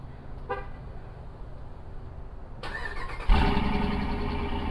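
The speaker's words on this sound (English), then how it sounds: "Another nice feature about the Durango and its key is that we have remote start." A 2021 Dodge Durango R/T fires up by remote start: a quiet idle, two short chirps, then the engine cranks and catches with a sudden louder rumble that settles into a steady idle.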